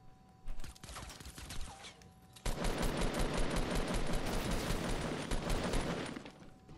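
Silenced pistol fire in the video game Fortnite: a few scattered shots, then a rapid, continuous burst of muffled reports that lasts several seconds.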